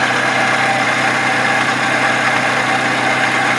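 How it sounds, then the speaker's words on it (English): A 2011-2012 Toyota Sienna with the 2.7 engine runs with a steady, loud rotating whir and hum, continuous and unchanging throughout, close by with no talking. "It's that rotating kind of noise."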